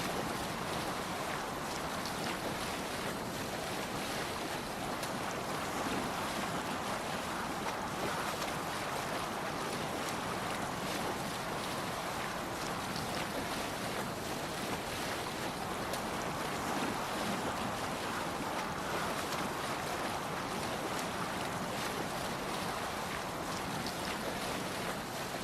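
A Viking longship sails across open sea in Assassin's Creed Valhalla: a steady rush of wind and breaking waves with a broad, constant hiss, no voices.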